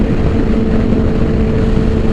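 Yamaha R6 sport bike engine held at high revs near its 16,500 rpm redline, a steady loud buzzing drone with wind rush throughout, no talk.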